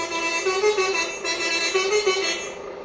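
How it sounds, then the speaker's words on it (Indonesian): A telolet bus horn, part of a basuri horn set on a bus, plays a continuous warbling multi-tone melody that rises and falls, loud and close, with no talk over it. "Ini telolet."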